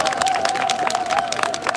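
A street campaign rally crowd outside a department store breaks into steady, dense applause, loud and continuous, with a faint tonal hum running beneath the clapping.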